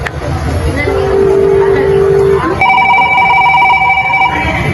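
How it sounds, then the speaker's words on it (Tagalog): A cellphone rings partway through with a steady, pulsing electronic ringtone that starts abruptly and repeats until the end, fairly loud over a background hum. "Nandito yung cellphone ni Cedric"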